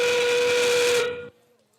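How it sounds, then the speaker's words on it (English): Endgame whistle at a FIRST Tech Challenge CenterStage robotics league meet: one loud, steady, steam-whistle-like blast that holds for over a second and then cuts off abruptly, leaving a quiet arena hum. "If our endgame whistle is sounding,"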